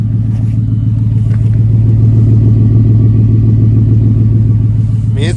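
A Ford F-150 single cab's engine and exhaust rumble at a steady, deep, loud idle up close, with a slight swell in the middle and no talking.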